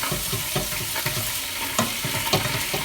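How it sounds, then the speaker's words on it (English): Onions fry in butter in a pan for French onion soup while being stirred, giving a continuous close sizzle broken by regular scraping strokes of the spoon. "you want to make sure you keep stirring this, because if your butter's run out, it will just start sticking"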